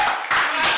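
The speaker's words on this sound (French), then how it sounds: "Est-ce qu'on peut l'applaudir" Applause breaks out from an audience at the close of a debate on disability, a short burst of clapping that rises in two quick surges within under a second.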